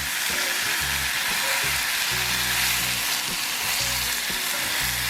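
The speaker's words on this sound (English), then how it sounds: "Stir that around a bit." Apples frying in a pan for a Cajun pork chop dish, stirred around: a steady, dense sizzle with soft scraping stir strokes throughout, close and fairly loud, no talking.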